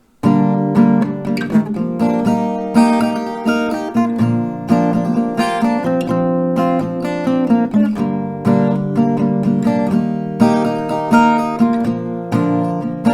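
A song is strummed on an acoustic guitar, melody notes woven into full, rhythmic chord strokes that ring loud and close throughout without any talking.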